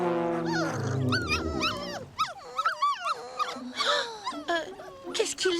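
Cartoon dogs whine and whimper in a dog park, a run of high, sliding, wavering cries with a few low growly tones, close and fairly loud, mixed with a brief spoken voice.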